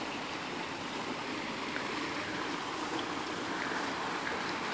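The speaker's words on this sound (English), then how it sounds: "it looks like we've reached the top of the little waterfall" Small waterfall in an outdoor sculpture garden, a continuous broadband rush of falling water heard close and steady, with no voices.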